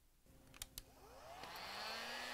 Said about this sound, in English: we're going to have to use a heat gun instead of a blow dryer along with the thermometer